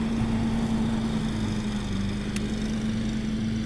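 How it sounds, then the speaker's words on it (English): A lawn mower runs steadily nearby with a constant engine drone while mowing and bagging grass in a garden. "We got Andrew mowing, bagging the grass and using that to mulch the holes"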